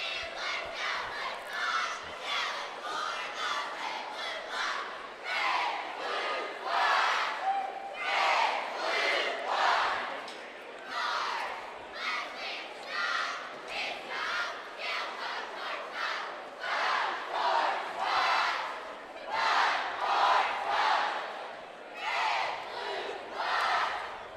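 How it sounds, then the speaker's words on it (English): Martin County cheerleaders chanting at a high school boys basketball district semifinal, a group of voices shouting rhythmic cheers in repeated bursts over steady crowd noise from the gym. "We'll let you hear the cheerleaders now."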